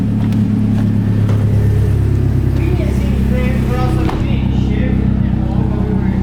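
A Mazdaspeed 3 engine held on two-step launch control gives a loud, steady, buzzing idle-like drone close by, with people talking over it.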